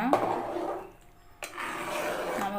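A Chettinad brinjal and field-bean kara kuzhambu with tamarind water is stirred in a pan, with two long scraping, sloshing strokes close by and a short quiet pause between them.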